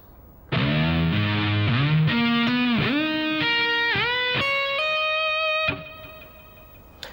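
A distorted electric guitar plays a rising lick of single notes, each dipping and swooping in pitch from a whammy bar, ending on a sustained high note.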